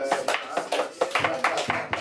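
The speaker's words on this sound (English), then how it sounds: "Give him a round of applause, everybody." A small audience at a barbershop lounge event claps by hand, giving a brief round of applause in uneven bursts of close, sharp claps.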